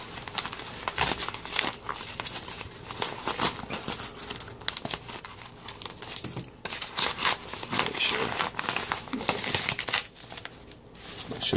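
A paper envelope being handled and opened at close range: irregular crinkling, rustling and tearing sounds in short bursts, moderately loud, with no talk over them.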